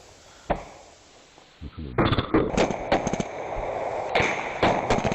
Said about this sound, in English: There goes another grenade.